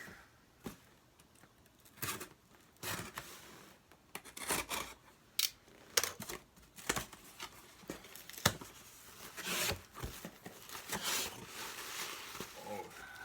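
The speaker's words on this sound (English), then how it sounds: "cut this box open here" A blade slices and scrapes through a cardboard box in short, irregular strokes with tearing and rubbing, close but quiet.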